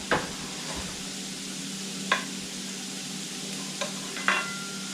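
Potatoes browning in a frying pan give a steady low sizzle, broken by a few sharp scrapes and clinks of a utensil stirring them.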